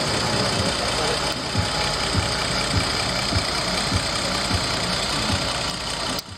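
A Mercedes 280 SLC coupe's iron inline-six 2.8 litre carbureted engine idles steadily, a close, even rumble with a soft rhythmic pulse throughout.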